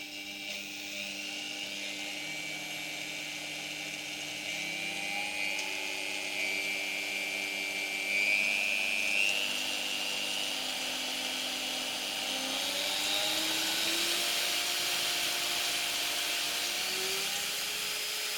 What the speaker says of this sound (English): I'll lay it on the bench and notch the motor up 1 increment at a time so you can see the changes in levels.